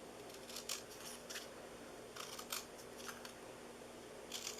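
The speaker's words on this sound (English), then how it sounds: "we're going to just start cutting out triangles" Paper being cut into triangles with scissors for scarecrow hair on a craft treat box, a few soft snips in short clusters, faint and close over a low steady background hum.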